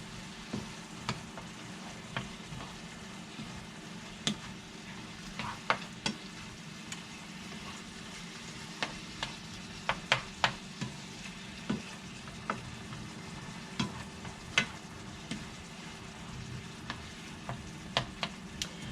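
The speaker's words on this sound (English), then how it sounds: "And kind of brown that in the middle of your pan, and then mix it all together." Garlic browning in the middle of a home skillet, a steady low sizzle with scattered sharp pops and crackles of stirring throughout, close and unaccompanied by voices.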